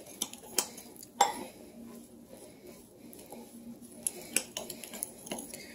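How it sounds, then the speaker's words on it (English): Red curry paste is stirred and mashed into cornstarch in a bowl, with scattered light clinks and scrapes of a utensil against the dish, soft and close, separated by quiet pauses. "Get this red curry paste mixed up in the cornstarch."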